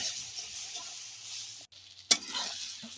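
Tomatoes sizzle and fry in a pan with ground cumin, a steady hiss broken by a brief pause and a sharp stir or scrape of the utensil, then frying resumes.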